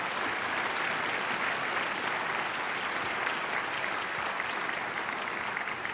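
Guests at an anniversary awards gala for a public school forum applaud the sponsors. The clapping is steady and sustained for six seconds and carries the wash of a large room.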